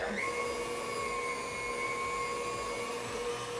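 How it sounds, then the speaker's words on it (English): A KitchenAid stand mixer fitted with a pasta roller attachment runs with a steady, even motor whine and hum that holds constant throughout, with no voices. "I'm gonna turn on my KitchenAid here."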